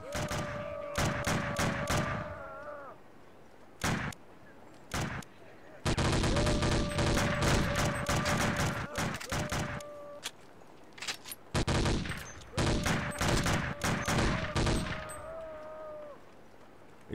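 Gunfire in the video game Boiling Point: Road to Hell, with loud bursts of automatic shots and rapid single shots that come in clusters and stop for short breaks, while someone talks under the shooting.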